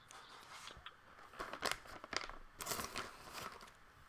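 Soft, crunchy card-shuffling effects in the video game Tabletop Simulator come in quick irregular bursts, fairly faint and with no voices.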